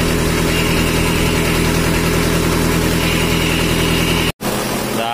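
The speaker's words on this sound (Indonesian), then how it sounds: "Ini masih baru hidup, belum hangat mesinnya." A freshly rebuilt Mitsubishi Strada Triton 4D56T turbo diesel idles cold just after start-up, a loud steady low rumble with even pulsing, briefly interrupted near the end before resuming.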